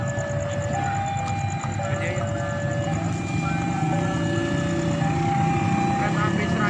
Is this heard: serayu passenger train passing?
yes